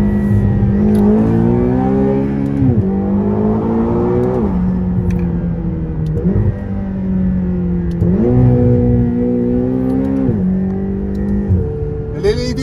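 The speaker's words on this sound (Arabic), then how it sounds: "في 9 ثواني بتشوف عمرك انت واصل سرعة 200 كيلومتر في الساعة، السيارة كذا تطير على طول." A McLaren GT sports car accelerates hard, its engine rising through repeated gear changes in a loud, close, continuous pull with each shift dropping the pitch before climbing again.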